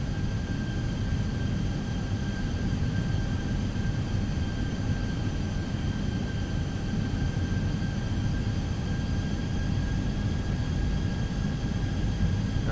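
A steady cockpit hum from a Fenix A320 airliner on arrival in Microsoft Flight Simulator: a constant broadband engine and air roar with faint tonal whine, unchanging and loud throughout, no voices.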